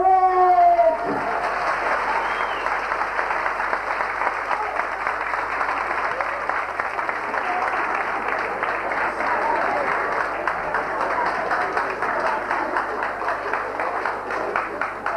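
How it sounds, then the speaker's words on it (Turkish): Sustained applause from wedding guests at a civil marriage ceremony, dense steady clapping that starts right after a brief voice at the opening and carries on evenly for the whole stretch. "böyle işler güzel olunca alkışlar da uzun oluyor değil mi?"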